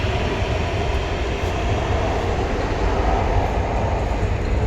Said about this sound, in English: This train is going without any driver.